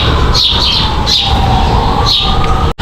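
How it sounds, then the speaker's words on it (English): A kea parrot at Franklin Park Zoo gives three bright, high chirps, evenly spaced over a loud, steady background hum. "It's a really cute bird."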